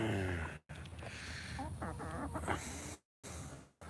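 A chicken clucks close by in a run of short, throaty calls broken by brief pauses, set against a rough outdoor background.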